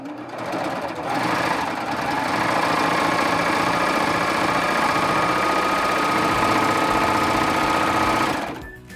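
Baby Lock serger running a single-needle chain stitch, a fast steady mechanical whir with rapid rhythmic chattering, close and loud, starting up after a second and stopping abruptly near the end.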